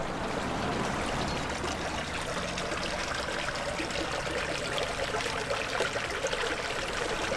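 Thorncroft Spring, an ancient spring reached down small steps, flows and trickles steadily in a clear, close, continuous babble of running water with no talk over it.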